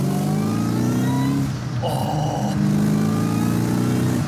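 A 2003 Ford Mustang SVT Cobra Terminator V8, bought at auction with a reported engine noise, revs and runs loudly and steadily up close throughout, with a brief shift in tone midway and a short exclamation from someone inside.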